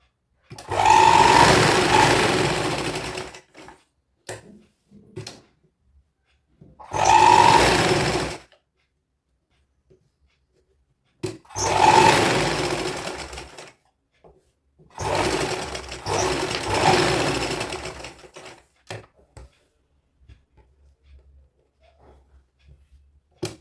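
A sewing machine stitches a small girl's frock in four separate bursts, each a steady close whir lasting a couple of seconds, with near-silent gaps between runs.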